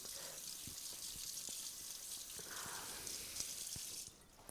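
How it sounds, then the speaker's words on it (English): Dirty vegetable rinsed under a running kitchen tap at home before peeling, a soft, steady hiss of water with faint scattered splashes and drips, quiet and close, with no talking. "I'm going to rinse you. Going to rinse before we peel."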